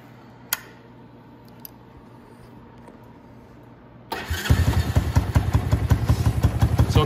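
After a quiet stretch with a couple of clicks, a warmed-up motorcycle engine with a Nibbi carburetor cranks and fires up right away, settling into a loud, rapid, chugging idle close by, running a little low.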